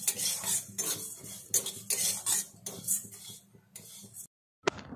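Mustard and fenugreek seeds stirred in a pan with a spoon while frying for raw mango pickle, giving close, repeated scraping and clinking strokes in an irregular rhythm, then a brief silence near the end.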